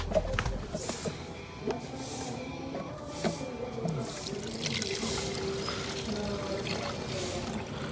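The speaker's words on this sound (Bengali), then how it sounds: "এখন এর মাঝখানে এই বোতলে থাকে পেট্রোল আমরা ঢেলে দিব" Petrol pours into a bottle with a continuous, fairly quiet trickling splash that lasts throughout, with faint background clatter.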